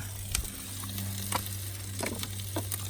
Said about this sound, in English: Nice burgers sizzling away there.